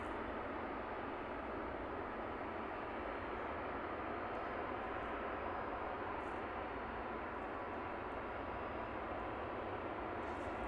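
A Wizz Air Airbus A320-200 arriving at London Luton Airport, heard as a steady, broad jet roar that holds at an even level throughout, distant and without speech.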